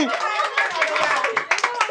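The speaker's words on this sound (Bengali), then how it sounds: "হাততালি হাততালি হাততালি" Children clap in a quick, dense patter during a number-calling prize game, with excited young voices talking over the clapping throughout.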